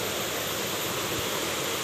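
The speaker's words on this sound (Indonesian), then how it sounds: "Aliran sungai" A river stream flows steadily past rice fields and plantations, a continuous broadband rushing wash with no voices.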